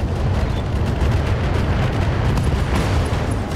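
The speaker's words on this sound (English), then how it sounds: "Firing all weapons." A mech firing all its weapons in the video game RogueTech, a loud, dense barrage of booming gunfire and explosions that rumbles continuously without a break and sits close, with no talk over it.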